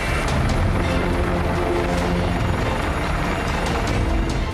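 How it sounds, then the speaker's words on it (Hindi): Military fighter jets flying overhead during a large Chinese naval exercise with aircraft carriers and warships at sea, a loud, continuous roaring rush that stays steady throughout, with no talk. "आसमान में 12 लड़ाकू विमान भी परवाज कर रहे हैं।"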